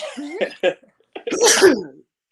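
Two sharp sneezes burst out close by, the second louder and longer, separated by a brief pause.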